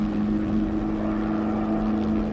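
Ka-25 naval helicopter in flight, its rotor and engines making a steady, loud droning whir with a strong low tonal hum, continuous and alone.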